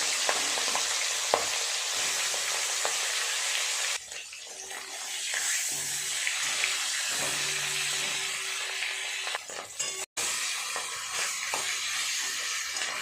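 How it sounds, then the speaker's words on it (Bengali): Spiced fish heads fry in hot oil with a steady, dense sizzle that holds throughout, dipping and rising slightly, with an occasional utensil tap. "তেল গরম হয়ে গেছে মাথাগুলো দিয়ে দেবো"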